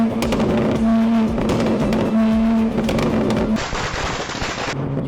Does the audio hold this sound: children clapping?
no